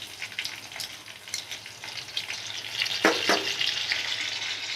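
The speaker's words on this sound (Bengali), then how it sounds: "এখন মশলাটা ভালো করে 1 থেকে 2 মিনিট কষিয়ে নেব" A masala of onion, garlic, cumin and ginger paste frying in a pan gives a steady, close sizzle, with a couple of sharp stirring scrapes partway through.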